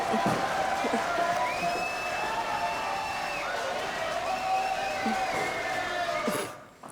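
An audience on a live French show applauds a singer before her performance, scattered claps and crowd noise mixed with a sustained musical tone, fading out abruptly at the end.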